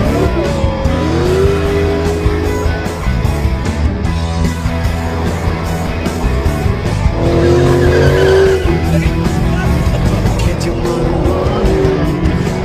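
A car driving fast with tires squealing and skidding in loud, repeated screeches over a roaring engine, heard up close with no talking.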